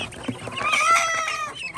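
Chickens clucking and squawking close by, a busy cluster of fowl calls with farmyard background noise.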